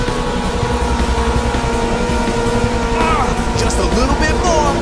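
A race car in the video game Ridge Racer 6 roars steadily at high speed under a nitrous boost, the engine drone loud and close, with a rising whoosh near the end and a person talking over it.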